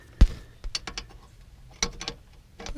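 Wrenches work on the hydraulic hose fittings of an RV slide-out pump on a Forest River Cardinal camper, giving a series of sharp metallic clicks and taps close by, with one louder clank at the start.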